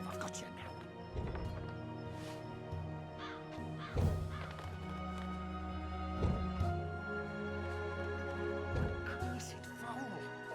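Crows caw repeatedly in the Dreamfall Chapters video game, harsh calls recurring every couple of seconds over layered game music and ambience.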